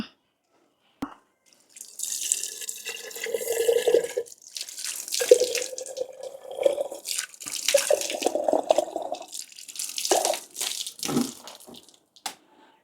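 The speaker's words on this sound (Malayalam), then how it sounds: "ഇത് ആദ്യം നമുക്കിതിൽ കുറച്ച് വെള്ളം ഒഴിക്കാം" Water is poured into a small fish tank in short splashing bursts with gaps between them, close and clear, with trickles and drips; no talking.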